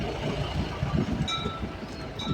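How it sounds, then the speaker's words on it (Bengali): A toy train at a scenic tourist spot rumbles along with soft clattering and a few thin metallic squeals, heard at moderate distance over a steady outdoor background. "ওই দেখো টয় ট্রেন।"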